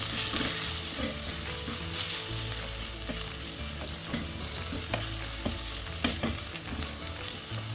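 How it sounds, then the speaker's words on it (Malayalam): Onions sauté in a pan with added spice powders while being stirred, a continuous close sizzle broken by repeated spoon scrapes and taps at an irregular rhythm, with no voices. "നമ്മളത് പൊടികളെല്ലാം ചേർത്ത് കൊടുത്ത് നന്നായിട്ട് ഇളക്കുകയാണ്."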